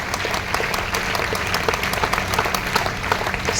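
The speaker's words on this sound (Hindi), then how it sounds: "एक बार जोरदार ताली बजाएं संजीव कुमार सिंह और नीरज कुमार सिंह, एक बार जोरदार ताली" Audience applause rings out loud and close, a thick continuous patter of many hands clapping at once, steady in level for a few seconds with no talk over it.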